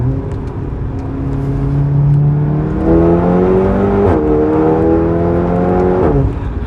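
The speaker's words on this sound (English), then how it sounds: "Did you feel the torque just pull us out of the corner like that?" Stock-turbo VW Golf 7R accelerating hard out of a corner, a loud, close engine note climbing steadily in pitch with a couple of brief dips as it pulls.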